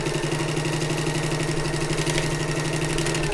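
A domestic sewing machine running steadily as it stitches and back stitches a tote bag seam toward the corner, a continuous close mechanical whir with a rapid even needle rhythm and no pauses.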